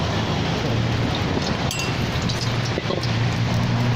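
Steady rain falls close by, a dense, even hiss of drops with no break, heard on its own.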